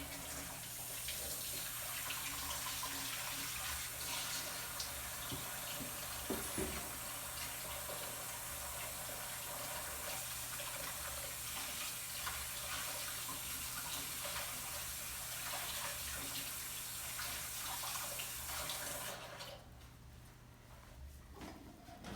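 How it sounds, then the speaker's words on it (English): Hands washed under a running tap, heard as a steady, soft rush of water that continues evenly before easing off near the end, with no talking. "I'm going to go over and wash my hands."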